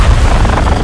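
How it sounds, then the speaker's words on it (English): A missile launches in the video game Call of Duty Modern Warfare 2 as a loud, brief, deep rumbling blast that fills the short moment. "Missile is ready for immediate delivery. Stand by for launch."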